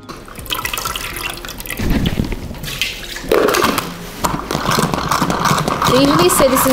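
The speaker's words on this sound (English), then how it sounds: "So I'm just gonna rinse this out." Kale leaves rinsed under a running kitchen tap for a green smoothie, water splashing and trickling steadily at close range with a few brief drips, partly under a person talking.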